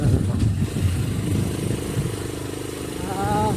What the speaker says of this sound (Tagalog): Motor na po may kawayan.